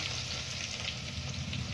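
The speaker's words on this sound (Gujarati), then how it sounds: "તેલ તપી ગયું ને ફટાફટ હું લસણ નાખી દઉં" Garlic dropped into hot oil in a home kitchen pan, a steady bright sizzle with faint stirring, close and continuous without talk.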